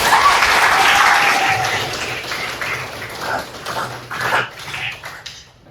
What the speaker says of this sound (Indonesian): Tepuk tangan buat kita semua pagi ini.